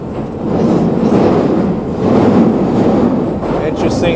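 A London Underground tube train rumbles steadily from inside the carriage, a loud continuous low roar with swelling intensity, faint squeals and a voice talking over it.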